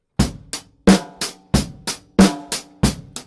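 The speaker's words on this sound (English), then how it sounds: "So if we play the eighth note groove" Drum kit playing an eighth-note groove with the hi-hat filling the gaps between beats, strikes spaced steadily at a moderate tempo, close and fairly loud, with no voices.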